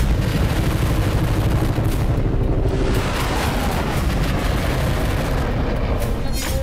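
Heavy gunfire from T-90 Bhishma tanks and booming artillery roll continuously, dense and loud, with overlapping blasts and rumbling echoes throughout.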